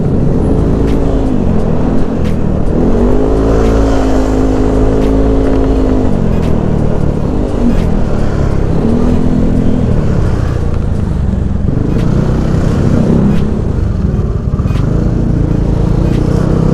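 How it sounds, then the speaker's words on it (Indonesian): A Yamaha NMAX scooter rides in slow Sunday-morning traffic, its steady engine drone and road rumble continuous and close, with other vehicles' engines rising and falling around it. "Enaknya naik motor nih."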